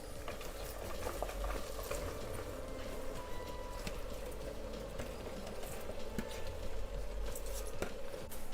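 Cabbage tipped into a pan of minced meat that has already been fried, giving a steady sizzle with scattered clinks and stirring scrapes throughout, fairly close and with no talking.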